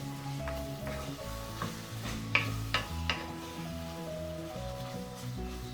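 Tomatoes with a teaspoon of rock salt sautéing in a pan for tomato mappas, a soft steady sizzle with a few sharp taps and scrapes of stirring, quiet and close.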